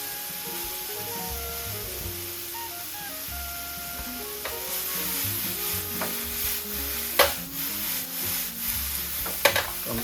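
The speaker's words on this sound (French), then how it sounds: "Tout ce que j'essaie de faire à ce moment-ci, c'est de blanchir les oignons." Onions sweating in a hot pan for a vegetarian quiche, a continuous sizzle with stirring scrapes and a few sharp utensil clicks toward the end, close up with no voices.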